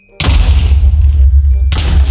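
A nuclear bomb detonating in Minecraft, a loud booming blast with deep low-end rumble that rings out for over a second before a second explosion strikes.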